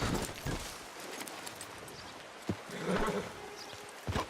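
Horse hooves and a whinny in Red Dead Redemption II: scattered hoof thuds over a hissy outdoor bed, with a short neighing cry near the middle and a few louder steps toward the end.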